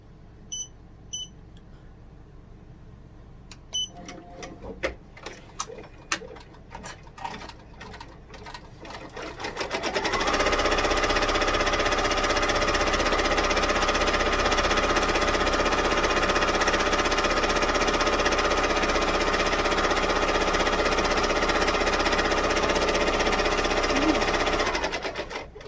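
Embroidery machine stitching placement lines onto stabilizer for a pig-shaped hand sanitizer holder, starting with a few faint clicks and beeps, then a loud steady rapid needle hum that runs continuously for about fifteen seconds before stopping.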